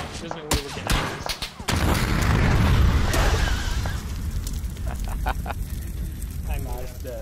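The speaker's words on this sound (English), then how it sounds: "the vehicle's on fire now" A burning vehicle in PUBG crackles and roars, with a loud blast and sharp popping bursts near the start followed by sustained dense fire noise and scattered pops.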